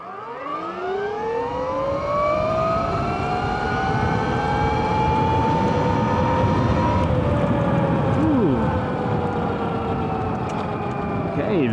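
An electric bike with hub motors, the Mantis, accelerating on roughly 70% charge, giving a steady loud whine whose pitch rises and then holds high for several seconds.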